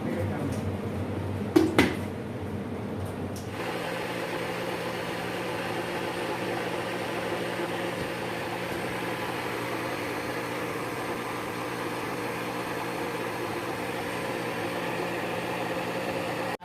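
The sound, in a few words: blender grinding rice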